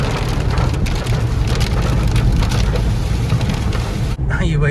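Heavy rain drums steadily on a Renault Kwid RXT with its wipers running at full speed, a dense continuous wash that drops out briefly near the end before resuming.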